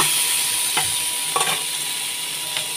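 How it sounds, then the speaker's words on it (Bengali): Paneer sizzles in a karai pan with a steady, hissing fry, broken by a few brief scraping stirs of a utensil against the pan. "এবার এটা আমি ভেজে নেবো ভালো করে।"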